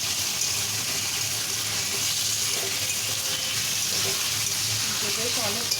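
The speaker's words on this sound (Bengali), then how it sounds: "আলু আর পেঁয়াজটা ভাজা ভাজা হয়ে এসছে" Potatoes and onions frying in a pan while papad is being cooked, giving a steady, close hiss and sizzle throughout with faint stirring and a brief voice near the end.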